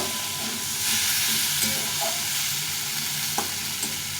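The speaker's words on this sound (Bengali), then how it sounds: "আরেকটু একটু কষিয়ে নেব" Potato and tomato curry with turmeric being stir-fried in a pan, a steady close sizzle and hiss with occasional scraping stirs, no talk.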